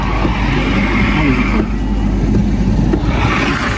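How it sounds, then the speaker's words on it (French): A car engine revs as the car accelerates, a loud, close, rough roar that swells and dips over a few seconds, with a voice faintly under it. "Là j'accélère."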